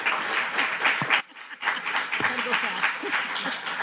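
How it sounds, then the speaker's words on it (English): Audience applause for a panel at a biotechnology and biomanufacturing summit, a dense wash of clapping that fills the room, breaks off briefly, then resumes just as strongly, with faint voices mixed into the crowd. "Let's do another round of applause for the panel"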